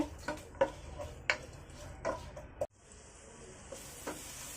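Sliced onion is stirred and sautéed in a pan while cooking beef paya, quiet soft sizzling broken by several scraping knocks of a spoon against the pan, then a brief hiss of frying.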